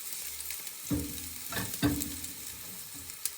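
Garlic frying in a pan, a steady soft sizzle broken by a few louder stirring scrapes and clinks, close and without talk.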